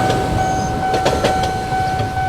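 A high-speed train runs on a railway bridge near Cikubang, heard as a loud, steady rumble with a sustained electric whine and a few brief rattling bursts, with no talk.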